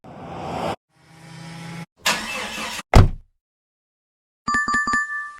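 A car door closing: a single loud thud stands alone among short separate vehicle sounds, with a few faint bright clinks after it.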